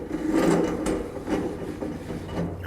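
A carpeted bunk board slides back along the brackets of a boat trailer, giving soft scraping, rubbing drags with a couple of small knocks, close up and fairly quiet, no voices.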